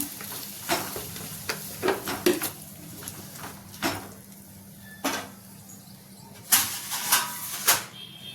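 A spoon repeatedly scrapes and clatters through tomatoes with salt in a frying pan, in irregular close strokes over a soft, steady sizzle.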